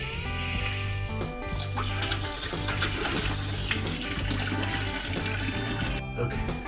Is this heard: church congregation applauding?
no